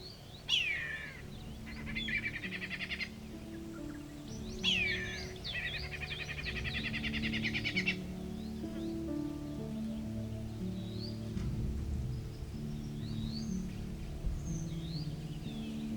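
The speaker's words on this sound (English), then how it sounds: "all the time the background call was from these whistling kites" Whistling kites call in the Australian bush, giving descending whistled cries followed by rapid staccato chatter, repeated a few times at moderate distance over a low rumbling background.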